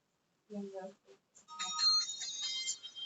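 Bells ring out a tune, the Wish You a Merry Christmas melody from the Hershey's Kisses Christmas advertisement, bright and fairly loud after a short lead-in of other sound.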